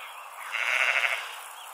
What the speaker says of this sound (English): There's one black sheep right at the top.